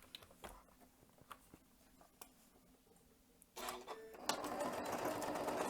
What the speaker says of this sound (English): I'm just going to sew on either side.